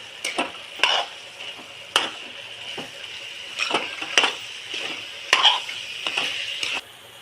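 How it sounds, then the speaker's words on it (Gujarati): A spoon stirs bottle gourd curry frying in a pan, with a soft sizzle under a series of irregular scraping strokes. "હવે આને હલાવી નાખીએ."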